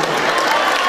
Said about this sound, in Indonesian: tepuk tangan untuk orang Kediri